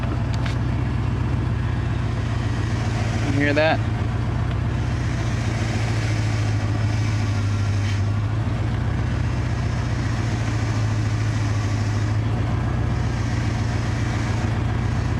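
A 1982 Ford F150 idles with a steady low engine drone while its power steering runs noisy as air bleeds from the system; one thin whine rises briefly, and a voice speaks once.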